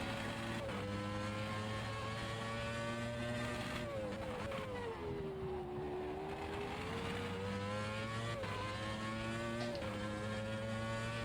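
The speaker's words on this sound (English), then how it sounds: "You just sound absolutely mental as well, these cars, with V8s, V10s, V12s." Continuous high-pitched Formula 1 engine whine in the racing game Automobilista 2, rising and falling in pitch as it revs through gears, loud and unbroken with no talk.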